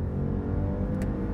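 Audi RS7 Performance with its stock exhaust, a deep, low rumble from the engine heard briefly and steadily at moderate volume.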